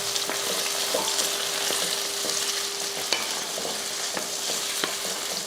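Onions and tomatoes sauté in a pan for kara kuzhambu, a constant close-up sizzle with periodic scraping taps of a spoon stirring through the mix. No voices are heard.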